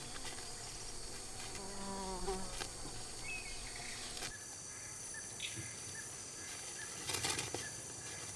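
Faint bee buzzing hums over a dense rainforest background with crickets chirping, steady and distant, with a few soft clicks.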